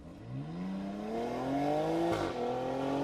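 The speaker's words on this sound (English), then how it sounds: "So I'm driving off-road with my Discovery Sport now" A 2020 Land Rover Discovery Sport D240 R-Dynamic S diesel pulls along an off-road track, its engine note rising steadily and evenly as it accelerates, heard close and clear with no talk over it.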